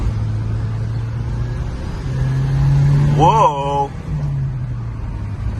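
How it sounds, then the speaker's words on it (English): A 1984 Saab 900 Turbo pulls hard in second gear on a highway, a steady engine drone rising in pitch as the turbo builds boost, with a brief voice exclamation over it. "Let's let the turbo go a little bit and let's see what happens."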